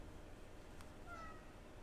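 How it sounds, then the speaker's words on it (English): A cat meows briefly and faintly in The Sinking City video game, a single short call over low steady background ambience. "Stop yelling at me, Kitty"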